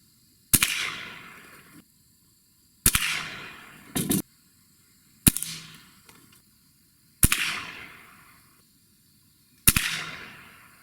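A Gamo Gen3i air rifle firing pellets at a target, with five sharp, loud reports spaced about two seconds apart, each followed by a short fading ring, and a quieter metallic click from cocking between some of the shots.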